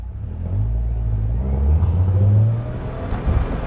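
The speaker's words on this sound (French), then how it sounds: "on rappelle que c'est un quadricycle à moteur" A Citroën Ami electric-style motor quadricycle drives along a city street, its low whirring motor rising and swelling steadily, fairly close, with a faint high whine near the middle.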